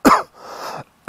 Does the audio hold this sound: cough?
yes